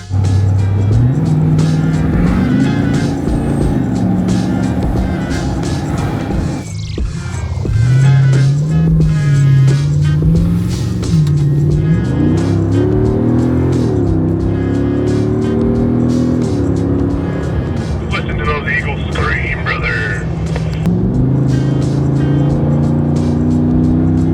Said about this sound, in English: The exhaust on the Trail Destroyer really rips, and you can hear it very clearly without the whine.